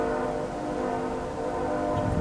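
Canadian National Railway train horn sounding a sustained, chord-like blast with rumbling train noise beneath, steady and fairly loud throughout.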